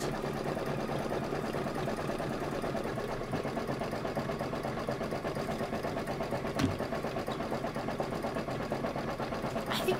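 A sewing machine stitches steadily during a quilting sew-along, its fast, even mechanical chatter running continuously at moderate volume with a brief knock near the middle.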